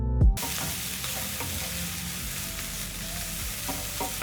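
Crushed garlic and ginger hit a hot oiled pan while cooking beef noodles, a loud constant sizzle and frying hiss with occasional stirring scrapes and clinks, no talking.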